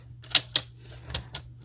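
WRMK tag-making tool cutting green paper, a few sharp clicks and snaps spaced irregularly, close and distinct, ending with a louder crisp punch.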